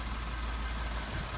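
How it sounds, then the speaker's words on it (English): A 2012 Ford F150 EcoBoost engine idles in a steady, even low rumble, heard alone with no talking. "So I've been running this F150 probably for about 5-10 minutes now."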